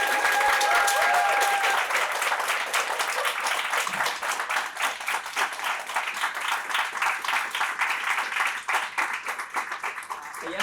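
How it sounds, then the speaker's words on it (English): An audience at an academic talk on Peruvian protest songs breaks into sustained applause, a dense clapping wash that thins slightly toward the end, with a brief tone at the start. "Let's just give one more round of applause."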